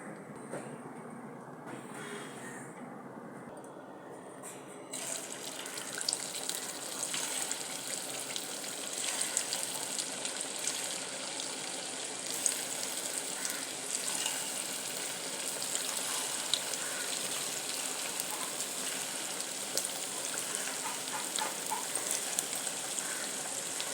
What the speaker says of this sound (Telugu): ఇప్పుడు వీటిని అయితే ఆయిల్లో వేసుకుని హీట్ చేసుకోవాలి